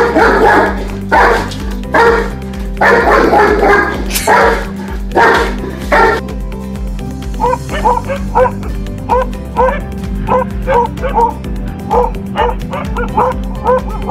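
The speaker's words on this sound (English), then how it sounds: "In our opinion, the German Shepherd has a powerful bark" A German Shepherd barks loudly and powerfully in repeated bursts, followed by a run of shorter, higher yips and whimpering barks at close range.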